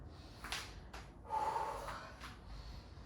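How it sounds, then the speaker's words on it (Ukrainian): Slow, deliberate breaths in and out during a guided neck-relaxation exercise, a couple of soft airy inhales and exhales, close and fairly quiet, with no talking. "Вдих, видих."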